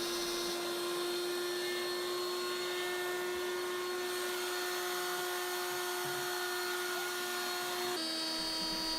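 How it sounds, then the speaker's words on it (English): Router on a router table cutting a slot in a board for a tapering jig: a loud, sustained high-pitched motor whine with steady cutting noise, its pitch shifting slightly near the end. "here's the second slot that I'm cutting now"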